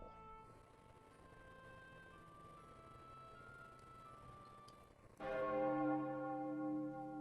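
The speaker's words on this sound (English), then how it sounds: "A bell begins to toll." A low background hum runs on until a deep bell strikes loudly, its ringing tones lingering and sustaining to the end.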